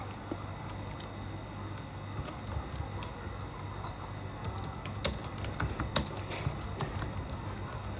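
Close, quiet computer keyboard typing while an address is entered into a Europass CV form, with irregular soft key clicks and a few sharper taps over a low steady room hum, no talking.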